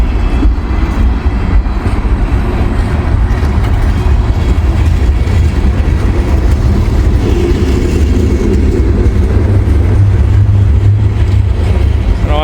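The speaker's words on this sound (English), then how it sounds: "I got a nice long train here to start her on off." A long freight train rolls slowly past after a snowfall, its deep rumble and rail noise steady and loud, close by and continuous, with no talk.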